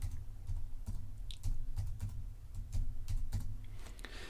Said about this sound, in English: I'm going to type in what I want.